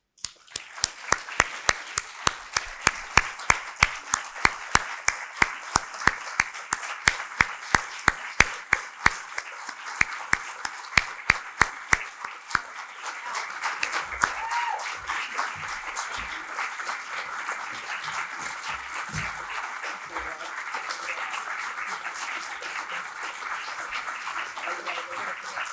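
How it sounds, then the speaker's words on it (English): Audience applause at the NAMI Central Texas annual meeting in 2021, with loud individual claps standing out in the first half before settling into steady, dense crowd clapping that continues to the end. "I hope you will join me in giving Karen a huge round of applause"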